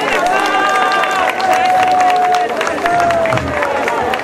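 An audience applauds and cheers after a minister's speech, a loud, continuous wash of clapping and crowd noise with some tonal whistling or voices mixed in.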